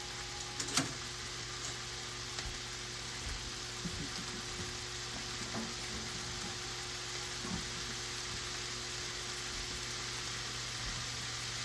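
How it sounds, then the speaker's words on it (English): Sausages fry in a pan with a steady, faint sizzle, a constant crackling hiss and a low hum underneath, occasional soft clicks, no talking. "we just let these sizzle for a certain amount of minutes"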